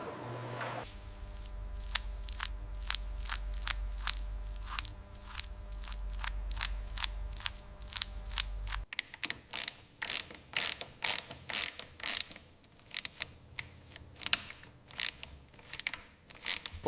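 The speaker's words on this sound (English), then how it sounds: "New heavy-duty bearings being pressed onto the freshly vapor-blasted carrier." New heavy-duty bearings pressed onto a freshly vapor-blasted axle carrier during a fire truck restoration, with rapid metallic clicking and ratcheting over a low mechanical hum that stops midway, followed by irregular sharp clicks and taps, fairly quiet.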